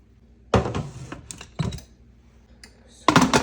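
A pressure cooker lid is handled and locked shut while red peas and cow skin soup cook: three or four sharp metallic clicks and clunks, close and distinct, separated by short quiet gaps.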